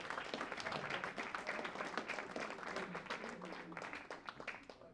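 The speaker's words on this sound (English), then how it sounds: "you should give Mike Shader a nice round of applause for putting this show together" A comedy club audience gives a round of applause, a steady patter of clapping from a small crowd that is fairly faint, fading toward the end.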